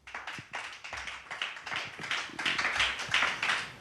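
A church congregation applauds for the Holy Spirit in a dense, steady patter of many hands clapping close by. The applause swells gradually and grows louder toward the end, with no voices over it.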